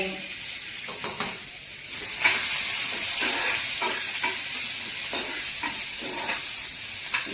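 Dried red chillies, curry leaves and onion hissing and crackling in hot oil for a tempering, a loud continuous close sizzle with spoon stirs scraping the pan at irregular intervals, no talking.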